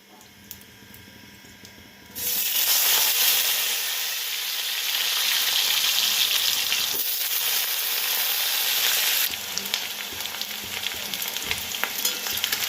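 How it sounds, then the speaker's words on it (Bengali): Potatoes are dropped into a hot pan and start to sizzle loudly. The crackling stays steady for several seconds, then eases to a lighter fry with faint stirring. "আলু একটু ভাজা ভাজা হবে।"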